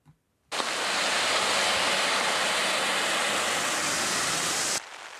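Loud, steady roar of the flooding Uryu River in Hokkaido, Japan, a dense constant wash that starts abruptly and cuts off near the end.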